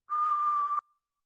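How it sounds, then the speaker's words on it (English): A single continuous whistled exhale during a breathing and relaxation exercise, one steady clear tone held for almost a second and heard alone, with a faint trailing hiss as it ends. "exhale, continuously whistle, and pull your belly in and push your belly out"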